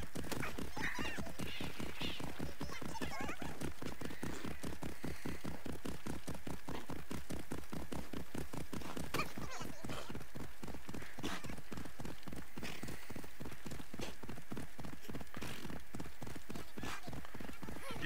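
Horse hooves clip-clop steadily along a road in Assassin's Creed Odyssey, a fast, regular gallop rhythm that carries on for the whole stretch, close and continuous, with an occasional whinny and faint ambient patter behind it.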